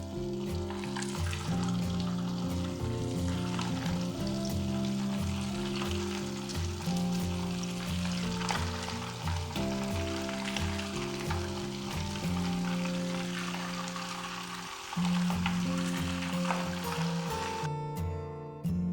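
Chicken curry pieces dropped one by one into hot oil sizzle and fry loudly and steadily, a constant crackling hiss with bubbling and occasional clinks of a utensil.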